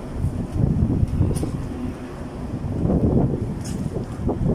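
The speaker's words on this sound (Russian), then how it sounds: "потому что ветер очень сильный" Strong wind buffets an outdoor microphone in a steady, low, rumbling roar that swells and eases, with no one talking.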